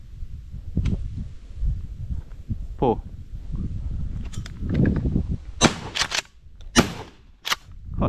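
Shotgun blasts ring out on a dove hunt: several sharp, loud cracks in quick succession near the end, after a stretch of rustling and people talking outdoors.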